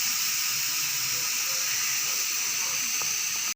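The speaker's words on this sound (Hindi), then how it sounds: "सीटी उतार कर अब हम खोल के देख रहे हैं कि गोश्त गला है कि नहीं गला।" Steady loud hiss of steam escaping from an opened pressure cooker with meat cooking inside, continuous and close, cutting off abruptly at the end.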